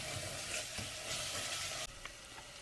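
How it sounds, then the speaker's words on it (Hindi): Boiled lentils hiss and sizzle loudly as they fry in a spice masala in a pot while being stirred for a white lobia (black-eyed bean) dish, a dense continuous crackle with a slight drop near the end. "दाल को फिर भूनेंगे।"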